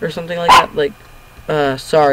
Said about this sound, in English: that was my dog right there